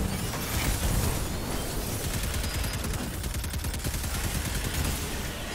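Dense, continuous automatic rifle fire in Destiny 2 against Thrall enemies, rapid bursts running close and loud for several seconds without a break, no talk over it.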